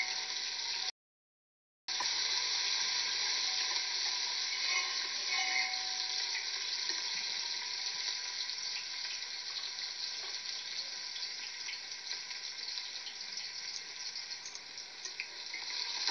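Peeled garlic cloves fry in a pan for a cooking dish of turnip and chicken, giving a steady, loud sizzle that runs almost the whole time after a brief silent gap near the start, with no talking.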